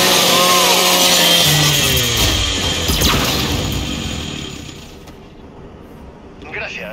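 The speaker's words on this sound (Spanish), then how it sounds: "Usa la motosierra de tu Lancer." A Lancer rifle's chainsaw bayonet revs and grinds in the Gears 5 training ground, loud and close for several seconds before tapering off, with voices talking over it.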